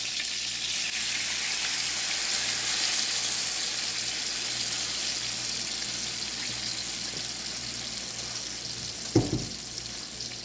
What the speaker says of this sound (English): I'm just going to go in with some water.